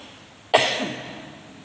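A single sharp cough bursts out abruptly in a mosque setting during a Friday gathering, followed by a short rough tail fading over under a second, alone without talk.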